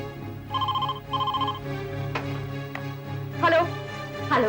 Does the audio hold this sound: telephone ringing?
yes